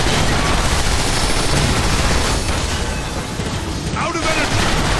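Dense blaster gunfire from Transformers: War for Cybertron, a continuous barrage of sci-fi energy shots and booms mixed with game sound, loud and close throughout.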